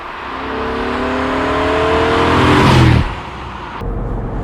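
A 2000 BMW Z8 roadster's 5-litre V8 pulls under load, a loud droning engine note rising steadily in pitch as it accelerates, then dropping off abruptly near the end into a lower, rougher rumble.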